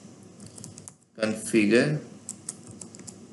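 Light clicks from a computer keyboard come as a command is typed, scattered and soft before and after a brief stretch of someone speaking.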